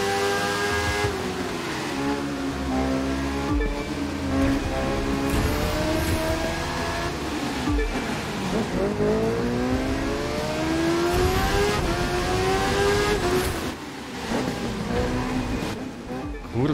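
A Suzuki GSX-R1000R superbike engine in The Crew 2 racing game howls continuously as it revs up and down through gears, its pitch sweeping repeatedly at a loud, close level.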